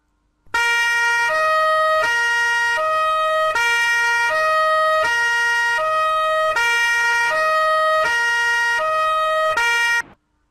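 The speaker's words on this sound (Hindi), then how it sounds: "पुलिस की भी एक गाड़ी नज़र आई और उसका हॉर्न काफ़ी ऊंचा था" A loud two-tone siren from a stationary police car alternates steadily between high and low pitches for about ten seconds, close by and unbroken, with no talking.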